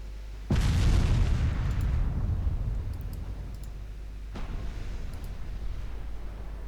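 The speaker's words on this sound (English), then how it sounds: "Now Edgar is taking fire from the battleship." Battleship gunfire in the naval game Ultimate Admiral Dreadnoughts: a loud deep boom with a long rumbling decay, then a second softer blast about four seconds later, with faint clicks between, and no talking.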